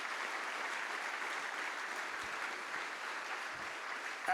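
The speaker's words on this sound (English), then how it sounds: "can we give the whole team from Leisure DB a massive round of applause?" An audience at an event applauds the Leisure DB team, a soft continuous patter of many hands heard from some distance, steady throughout.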